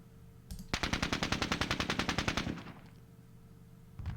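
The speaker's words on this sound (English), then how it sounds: "we're triggering a lot of opportunity fire here" Machine-gun fire in the Squad Battles Winter War video game: a fast, evenly spaced burst of about two dozen rounds, fairly close and loud, then a fading tail and a single faint shot at the end.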